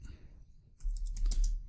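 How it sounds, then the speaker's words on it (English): Terminal command tapped out on a computer keyboard while mounting a drive, a brief flurry of close, quiet key clicks after a moment of near silence. "So to mount this partition, we're going to type in sudo"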